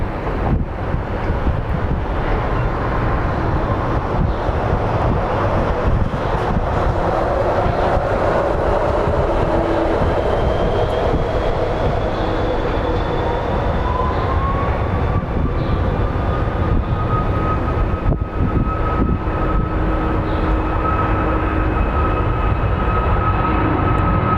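Southwest airliner at Phoenix Sky Harbor airport, a loud, steady jet roar with a slowly rising whine, heavily buffeted by wind rumble for the whole stretch.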